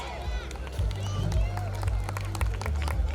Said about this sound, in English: Let's give another round of applause for his wonderful address.